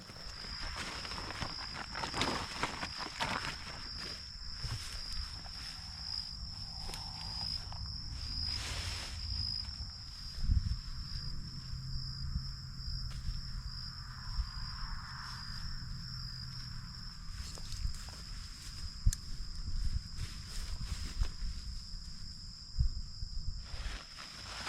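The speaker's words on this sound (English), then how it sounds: "I got a cricket trying to come in with me." Crickets chirp steadily at night near Lake Okeechobee in Florida, a continuous high shrill trill close by, with occasional rustling and footsteps from a bike-packing camp underneath.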